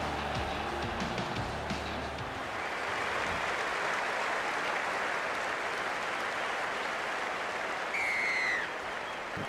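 A stadium crowd in the Rugby League 26 video game cheering with a broad, steady roar that holds at an even level throughout a women's Six Nations match between Wales and Scotland.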